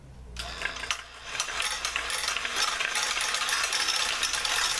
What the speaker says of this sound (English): you have to admit it makes a very interesting noise when running